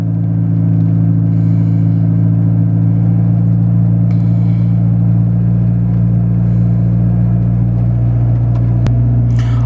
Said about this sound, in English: That's with the exhaust leak.